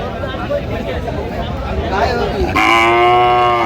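People talk amid crowd noise at a cattle market, then a cow lets out a loud, close moo that rises sharply and holds to the end.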